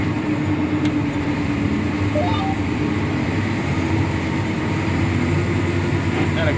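Inside the cab of a John Deere 9560R tractor pulling a disc chisel plow through a Michigan field, a steady, loud engine drone and rumble holds constant throughout with no breaks.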